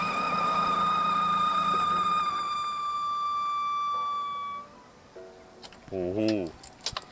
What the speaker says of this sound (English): So it makes that last little bit of a whiny noise, which indicates to me that it's the overrun pulley